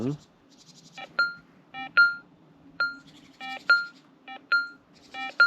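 An AKA Intronik metal detector with a 15-inch coil sounds a series of short electronic beeps, clear and repeated in uneven bursts about every half second over quiet background hum.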